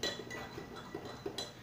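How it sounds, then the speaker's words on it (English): A spoon clinks against the side of a mug while stirring hot chocolate made with milk, making light, regular taps about every third of a second. The taps are close and quiet over a soft background, with no talking. "Then I'm going to stir it some more"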